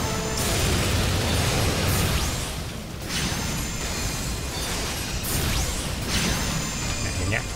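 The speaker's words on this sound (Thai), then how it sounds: "ตรงนี้คือบอสกำลังแบบใช้สกิลระเบิดไฟ" A boss in Final Fantasy XIV unleashes a fiery explosion skill: loud repeated whooshing bursts and booms, with three sharp blasts spaced a few seconds apart over a steady rumbling battle din.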